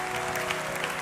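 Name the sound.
congregation applauding in church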